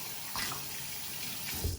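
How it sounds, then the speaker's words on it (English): Water runs steadily from a tap as a makeup brush is rinsed under the stream, a close, even splashing flow with slight shifts as the brush moves through it and no talking. "Clean it underwater, get all that soap out."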